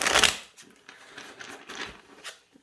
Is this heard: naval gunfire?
no